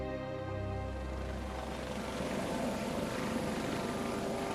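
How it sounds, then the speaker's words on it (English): A rescue helicopter flies close by, its steady rotor thump and engine whine loud and continuous, with the pitch sweeping slightly as it passes; no voices. "they heard the helicopters"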